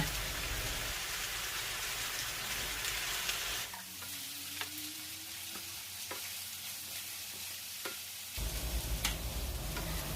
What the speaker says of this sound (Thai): ผัดส่วนผสมให้เข้ากัน แล้วเราก็ใส่ไข่คนที่เราเตรียมไว้นะคะ